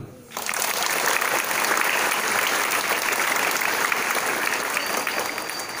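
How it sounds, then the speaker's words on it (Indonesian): Students at a junior high school flag ceremony in Kelapa Gading, Jakarta break into loud, sustained applause that starts abruptly and holds steady as a dense wash of many clapping hands, with no talk over it. "Tepuk tangan dulu"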